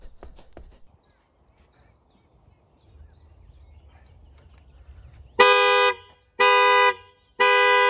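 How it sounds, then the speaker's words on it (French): A Tesla Model 3's alarm goes off after its wheels are tapped: three loud, evenly spaced horn-like blasts, each lasting about half a second, following a stretch of faint knocking and quiet. "Donc là, on va essayer de tester l'alarme de la voiture."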